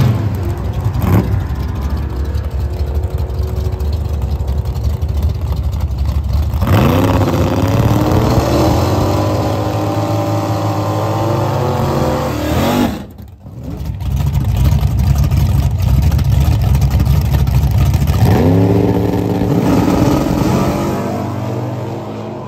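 A drag race car makes a test-and-tune pass at the track. The engine roars loud and steady, with a clear rising rev at about 7 seconds, a brief cut near 13 seconds and another strong rev around 18 seconds.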